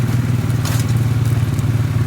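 A tractor working close by, loading rocks into small trailers on rural property, gives a steady loud engine drone with a faint crunch and clatter over it.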